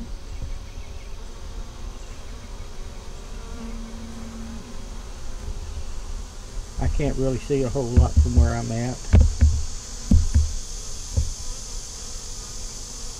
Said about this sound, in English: We have bees in there.